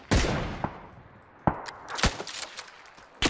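Several sharp video game gunshots ring out, spaced irregularly with a few quick bursts close together, loud and punchy with short echoing tails.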